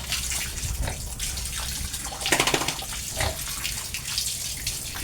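Water from a hose or tap splashes steadily across a sloped concrete pig pen floor, running off as it is washed down, with a brief louder gush midway and no talking.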